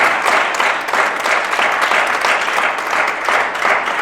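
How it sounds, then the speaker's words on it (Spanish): Congregation applauding in praise at a church service, a steady, loud, sustained roar of clapping that holds evenly throughout without fading. "Fuerte el aplauso al Señor"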